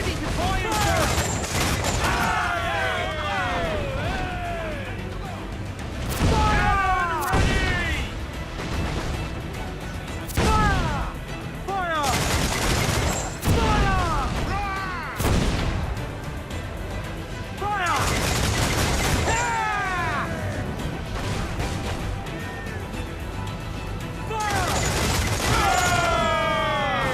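Pirate ship cannons in Assassin's Creed 4 Black Flag firing repeated heavy booming volleys during a naval battle, loud blasts with crashes and shouted voices, music and battle noise layered underneath.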